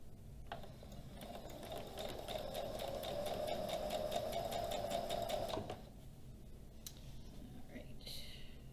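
A sewing machine stitches quilt strips together in one steady run of about five seconds, a fast even whirring hum, then stops, followed by soft handling sounds and faint whispered speech.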